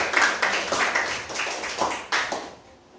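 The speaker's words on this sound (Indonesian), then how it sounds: "kita tepuk tangan untuk kelompok 1" A short burst of group clapping, a few hands patting in loose rhythm, fading out near the end; nobody speaks.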